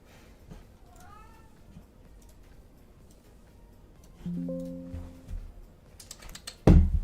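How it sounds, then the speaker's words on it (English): A house cat meows in a quiet room, a rising cry early on, then a longer, louder drawn-out meow, with soft keyboard typing and a sharp knock at the end. "I'm putting no noise cancellations in because my cat won't shut up."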